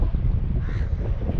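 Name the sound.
birds at a Ganges river ghat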